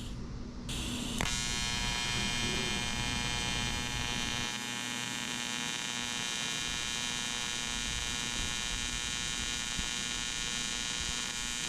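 An AC TIG welder runs a bead on aluminum during boat and trailer repair work: a steady, loud electrical buzz with a droning hum kicks in about a second in and holds unbroken to the end, with no talking.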